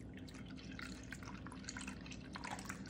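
Faint liquid pouring and dripping as milk goes into a pan of tomato sauce pasta, a quiet steady trickle with small splashes throughout.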